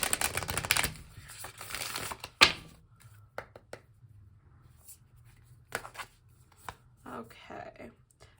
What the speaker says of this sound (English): Go ahead and shuffle once more, and then I'll just cut.